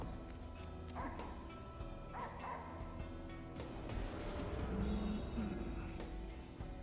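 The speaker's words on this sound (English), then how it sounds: "The barking is quite loud." Stray dog barking in the video game Slitherhead, a few sharp, fairly close barks and yips over a low ambient background.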